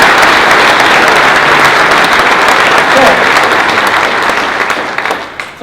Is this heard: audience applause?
yes